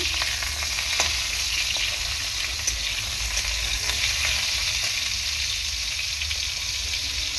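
Pointed gourd (potol) fries in a pan with a steady, close crackling sizzle, a continuous hiss broken by a few sharp pops and light stirring scrapes.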